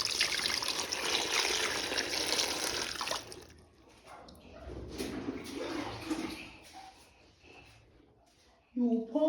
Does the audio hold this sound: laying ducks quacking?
no